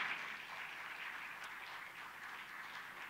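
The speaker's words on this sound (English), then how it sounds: "Big round of applause, please." Steady, fairly faint applause from a conference audience at an economic dialogue session in Asia, a continuous wash of many hands clapping at a distance for about three seconds with no voices.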